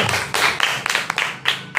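Pupils in an elementary school classroom give group 1 a short burst of clapping, a few distinct sharp claps rising from a brief, lively patter up close.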